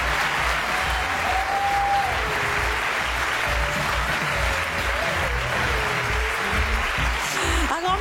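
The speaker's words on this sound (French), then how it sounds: "Et si on applaudissait ou je sais pas, on faisait un truc." An audience at an entrepreneurs' conference applauds in a dense, steady wash of clapping that holds at full strength throughout, with a few voices faintly audible underneath.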